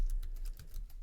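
Quick, rhythmic keystrokes on a computer keyboard as a terminal command is entered, close and fairly soft, with about eight clicks in a rapid burst.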